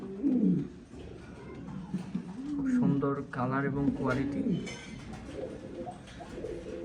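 Oversized pigeons coo in low, rolling calls that mingle with someone talking over them at close range.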